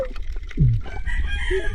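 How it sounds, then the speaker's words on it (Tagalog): A chicken clucks and squawks close by, a short burst of loud fowl calls over low rumbling background noise. "Oops, manok."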